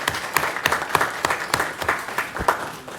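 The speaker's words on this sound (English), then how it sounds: "Let's give her a round of applause" Applause from the audience at a city council meeting for a speaker, a steady wash of many hands clapping with sharper individual claps standing out, moderately loud and continuous throughout.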